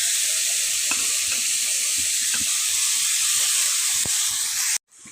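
Grated bottle gourd sizzles steadily in a hot pan while a spatula stirs it, with soft scrapes and taps over the constant frying hiss before the sound cuts off abruptly near the end.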